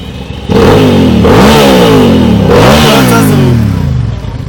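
A 650cc motorcycle engine revs hard twice, rising and falling in pitch, loud and close with a steady idle rumble between and after.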